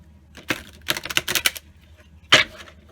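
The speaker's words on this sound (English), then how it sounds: "Let's pull one more card." Tarot cards are shuffled and drawn from a deck up close, giving a quick burst of crisp rapid riffling clicks and a single sharp snap near the end, quiet between.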